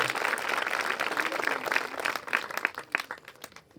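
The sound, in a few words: audience applause at a church meeting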